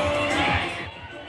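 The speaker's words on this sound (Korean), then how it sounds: "함성이 쏟아지고 플래시가 쉬지 않고 터집니다." Fans cheer and scream for BLACKPINK's Jennie on the Cannes red carpet, a loud dense crowd roar that swells and then fades within a second or so.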